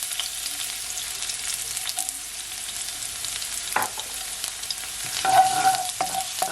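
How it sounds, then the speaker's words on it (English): Garlic sizzles in heated olive oil in a pot, a steady frying hiss with occasional stirring clatter and a brief metallic scrape, close and clear without speech. "So now that my oil is all heated up, I'm gonna firstly add my garlic"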